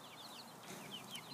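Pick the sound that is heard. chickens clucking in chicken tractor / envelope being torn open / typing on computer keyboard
chickens clucking in chicken tractor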